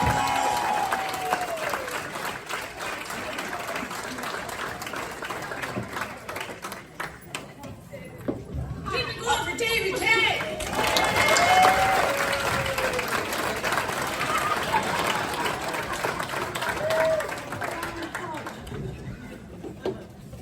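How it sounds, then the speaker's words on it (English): A crowd claps and cheers for several seconds, swelling in the middle, while voices talk over the applause at times. "Give her a big round of applause."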